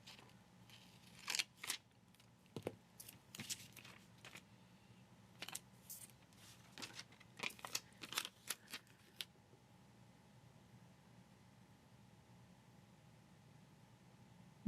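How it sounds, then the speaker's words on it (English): Large scissors cut paper for a planner page: a quick run of crisp, close snips and clicks in bursts, then quiet with no cutting. "let me get my larger scissors"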